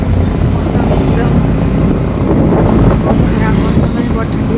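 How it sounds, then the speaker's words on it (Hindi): Cold wind buffeting a handheld microphone outdoors on an overcast winter day on the way to a railway station, a loud continuous low rumble with gusty swells that swamps everything else. "बहुत ठंडी हवा चल रही है"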